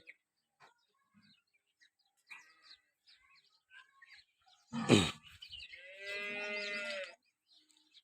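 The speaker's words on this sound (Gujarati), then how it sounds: "આઠથી નવ જેટલી ગાયો હાજરમાં છે" A single loud dairy cow moo rises then holds for about two seconds, nearby, preceded by faint scattered bird chirps and small sounds in a quiet cowshed near Rah village, Tharad, Banaskantha, Gujarat.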